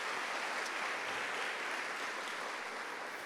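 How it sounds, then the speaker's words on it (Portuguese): A church congregation bursts into sustained, dense applause during a Catholic Mass, loud and steady for the full few seconds with no voices over it. "Aplauda, porque esse irmão entendeu."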